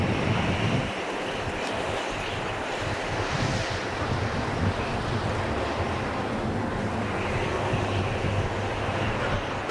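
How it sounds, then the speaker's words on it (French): Icy wind gusting through a snowstorm at over 120 km/h, a loud, continuous roaring rush that swells and ebbs, heard alone without voices. "Le vent glacé souffle en rafale à plus de 120 km/h."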